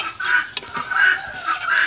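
A free-range chicken in a backyard gives short repeated clucks and squawky calls, fairly close and loud, with some soft background rustle.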